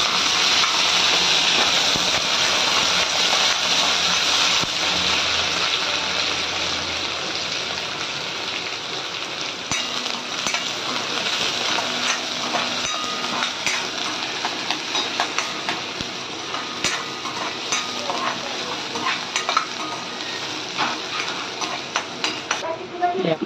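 Onion and curry leaves frying in a home-kitchen pan, a steady, fairly loud sizzling hiss with occasional stirring scrapes, continuous throughout.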